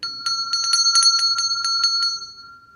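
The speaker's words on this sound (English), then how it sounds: "Let's ring the bell for a smile." A bell rings in a quick run of about a dozen bright, clear metallic strikes with a sustained ringing tone between them, close and fairly loud, fading out at the end with no talking.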